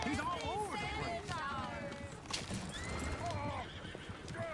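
Horses in the Red Dead Redemption 2 video game whinny repeatedly and clop along at a gallop, loud and close, with a voice talking over them.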